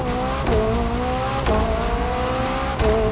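McLaren Elva supercar engine in The Crew Motorfest, revving loud and close with steady harmonic drone, rising pitch through gears and sharp shift breaks roughly every second or so.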